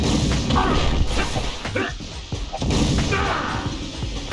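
Shooting in the Ben 10 Protector of Earth video game comes through as heavy, repeated impact blasts and crashes amid busy game noise, with a voice talking over it.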